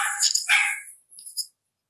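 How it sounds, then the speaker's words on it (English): A dog barks a few times nearby, sharp yips clustered in the first second followed by a fainter bark and a brief final one, with no talk over them. "it can still catch the dog's barking"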